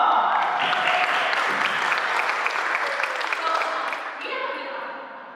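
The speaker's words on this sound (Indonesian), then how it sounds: "Tepuk tangan dulu dong." A student audience at a public-speaking class entertainment event claps in a lively burst, many hands with some cheering voices mixed in, fading down toward the end as the crowd settles.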